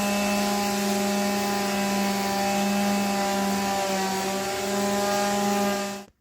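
A power sander grinds wood with coarse 50 grit sandpaper during work on a custom wood stove hearth, a loud steady whine that runs unbroken before cutting off abruptly.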